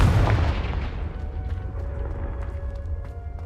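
A Confringo spell blast in Hogwarts Legacy, a loud booming burst that opens the clip and then decays into a long rumbling tail with faint ticks.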